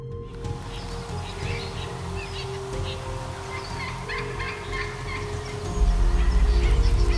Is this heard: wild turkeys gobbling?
yes